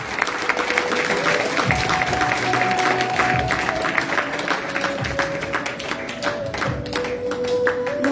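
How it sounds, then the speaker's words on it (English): Audience applause at a Telugu Raam Bhajana awards function in South Africa, sustained steady clapping from a crowd lasting throughout, with a faint tonal hum underneath. "A huge round of applause."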